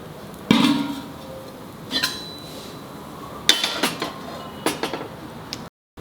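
A cooking pan and metal vessel handled in a kitchen while making dry shrimp curry, several sharp clanks and knocks of metal on metal and stovetop, spaced irregularly and close by, ending in a brief silence.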